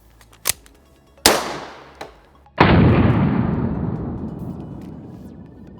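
Four rubber-bullet gunshots fired into ballistic clay and a slab of pork fat: two sharp cracks, then a louder shot with a long ringing echo, then a final heavy blast whose reverberation lingers and slowly fades.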